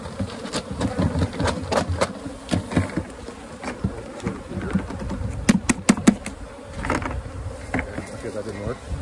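A swarm of honey bees buzzes around a hive box during a swarm capture, a dense close hum with individual bees zipping past the microphone in loud passing whines, plus occasional handling knocks.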